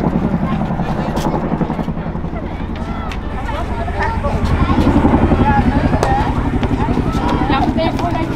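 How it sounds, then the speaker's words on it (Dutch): A Boeing CH-47F Chinook military helicopter at an aviation event thunders with a steady, heavy rotor throb and engine roar, loud and close throughout, while people talk and exclaim over it. "Inmiddels staat Marcel al klaar om de Chinook te ontvangen"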